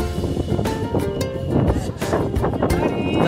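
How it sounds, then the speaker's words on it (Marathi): Loud, steady sea-front wind buffeting the microphone on a beach, a constant roaring rumble with gusty surges throughout. "तुफान अशी वारा हवा सुटलेली आहे"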